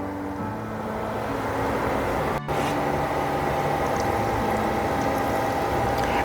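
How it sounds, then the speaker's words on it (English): Tortilli dough sizzles and bubbles in a deep fryer heated to 375 degrees, a dense, steady crackling hiss with no pauses over several seconds and no speech. "I'm going to let them fry until they're golden"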